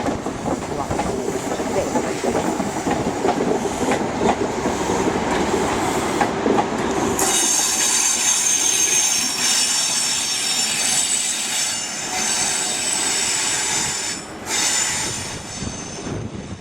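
A Northern train passes along a platform at Leeds station, a loud, steady roar with squealing wheels and rail clatter that brightens into a high metallic hiss midway and holds to the end, with faint voices underneath.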